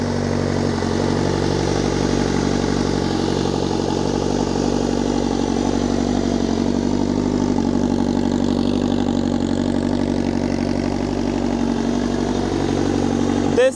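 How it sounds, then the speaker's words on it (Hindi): A Honda CBR 1000RRR sport motorcycle engine idles steadily while warming up, a continuous mid-pitched rumble with faint clatter, close by, without anyone speaking. "आपको सामने दिखाता हूँ बाइक, इस टाइम हो रहा है वार्म अप"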